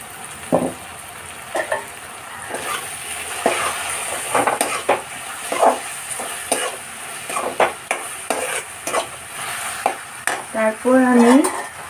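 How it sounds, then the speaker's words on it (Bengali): Soy sauce and tomato sauce go into a hot frying pan, giving a steady sizzle broken by repeated clinks and scrapes of a utensil against the pan, with a louder burst of frying near the end. "এবার আমি একটু সোয়া সস দিয়ে দেবো। আর একটু টমেটো সস দিয়ে দেবো।"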